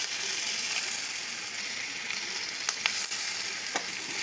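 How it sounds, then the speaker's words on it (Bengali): Bata fish masala with green chillies sizzles hard in a pan after gondhoraj lemon juice goes in, a loud, dense frying hiss with a few sharp clicks and scrapes near the end, close by. "এবারে গন্ধ লেবুর রস দিয়ে দেবো"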